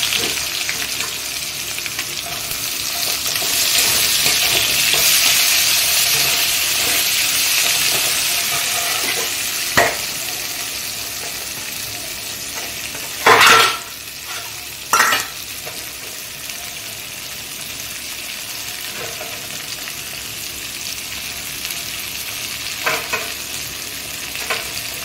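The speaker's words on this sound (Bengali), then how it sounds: "আমার পেঁয়াজটা হালকা লাল লাল করে ভাজা হয়ে গেছে।" Chopped onions frying in oil in a pan, a continuous close sizzle with repeated scraping stirs and a few louder clanks of the spoon on the pan, no voices.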